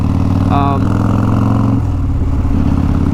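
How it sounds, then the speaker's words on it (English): A Harley-Davidson Fatboy with a 140ci engine idles close by, a loud, steady, deep rumble that holds even with a brief higher blip early on. "This bike is also idling perfect."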